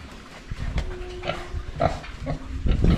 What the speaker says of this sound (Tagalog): Ito yung mga hybrid natin na baboy.